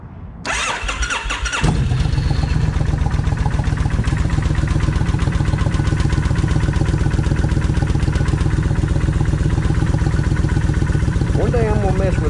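A Kawasaki Vulcan 1600 motorcycle engine cranks briefly, catches and settles into a loud, steady idle with an even low throb that carries on through the rest of the clip, close by.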